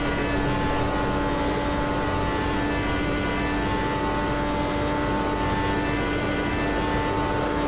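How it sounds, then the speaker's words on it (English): Helicopter hovering overhead above an IndyCar race at Daytona in Automobilista 2, a constant droning rotor and engine hum with a steady tonal whine, unbroken and fairly loud throughout. "the helicopter, the chopper, is just above us and recording the race for the television broadcast"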